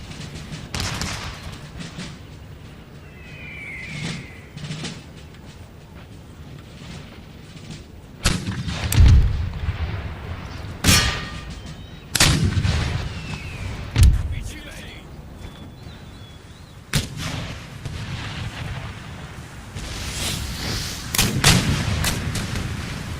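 Cannon and artillery volleys in the PC strategy game Empire: Total War, with repeated deep booms and cracks at irregular intervals over a continuous battle din, some shots loud and close, others more distant.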